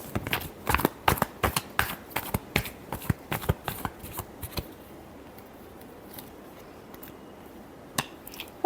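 Tarot reading cards shuffled in a quick run of crisp riffling snaps for about four and a half seconds, then near silence with one last faint flick.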